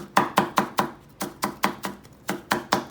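Rhythmic knife chops on a cutting board as garlic is minced, about a dozen sharp, evenly spaced strikes with a brief pause midway, close and clear.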